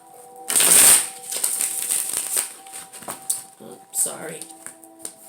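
Tarot cards drawn and shuffled nearby, with one sharp riffle at the start and then softer clicks and slides, while a person talks over them.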